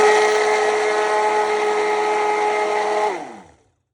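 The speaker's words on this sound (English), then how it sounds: "then we can blend it using this kind of a blender" A countertop blender runs steadily at high speed, whirring through butter chicken sauce thinned with almond milk, then winds down and stops near the end.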